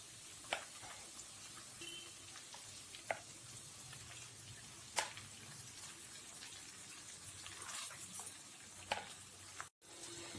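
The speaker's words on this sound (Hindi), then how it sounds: "अदरक लहसुन को अच्छे से सौटे करने के बाद हम इसमें चिकन के पीसेस डाल देते हैं" Chicken pieces sizzling in a pan with sautéed ginger and garlic, a steady soft frying hiss under occasional sharp clicks and knocks of stirring, with a quiet kitchen background.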